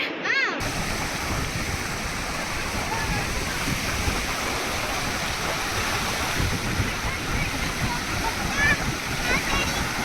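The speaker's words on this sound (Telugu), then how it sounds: "ఆ రోజు విపరీతంగా ఉన్నాయి అలలు, చాలా ఎక్కువగా." Strong sea waves crash and roll at a beach in a continuous loud wash of surf, with people's voices mixed in now and then.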